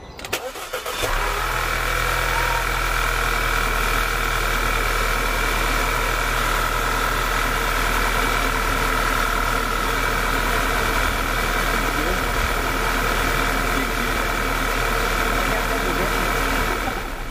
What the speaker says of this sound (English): we're gonna give this thing a crank